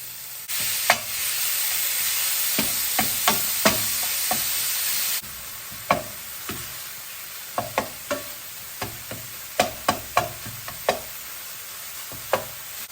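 Sausage and onions frying in a pan, seasoned with salt, pepper and crushed red pepper flakes, a bright close sizzle under repeated sharp clacks and scrapes of a utensil stirring against the pan.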